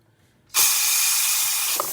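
After a moment of near silence, the steam wand of an Elektra espresso machine bursts into a loud, steady hiss that continues to the end.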